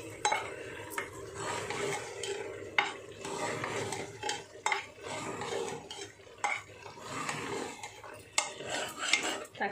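Bottle gourd being stirred in a pan on the stove, with repeated scraping and clinking of a utensil against cookware, faint sizzling underneath, moderately close and steady with irregular strokes, no talking.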